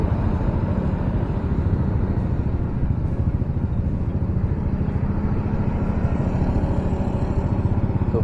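Motorcycles and cars move past in street traffic near a red light, making a continuous, moderately loud blend of engine rumble and clatter with no clear pauses.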